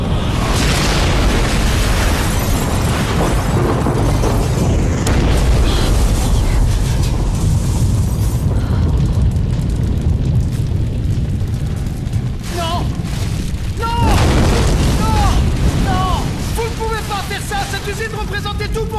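A laboratory bomb explodes in a French feature film, a loud sustained blast with rumbling bursts and debris roaring for many seconds, followed by ringing, whistling tones as the destruction continues.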